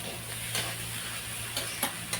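Okra and potato vegetable being stirred in a pan, a steady low sizzle under a few brief spoon scrapes and taps, close and fairly quiet, with no talking.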